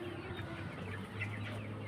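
Low chicken clucks over a steady droning hum and background noise, brief and fairly close.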